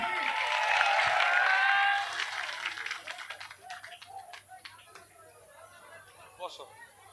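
Crowd applause at a political rally bursts out loud and dense for about two seconds, then thins into scattered claps and crowd chatter with voices talking.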